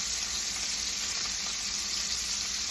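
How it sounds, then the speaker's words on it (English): Steak frying in a pan with butter, a steady close sizzle and crackle of hissing fat running continuously at moderate level with no voices. "the meat is frying and it's very loud"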